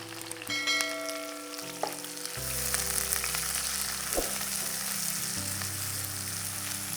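Crushed red shallots drop into hot oil with popped mustard seeds and sizzle loudly and continuously, with a few sharp utensil clinks and a steady musical tone playing underneath.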